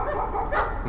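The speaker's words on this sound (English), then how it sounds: "Dogs." A dog barks in a brief yipping burst, close and fairly loud over steady background noise.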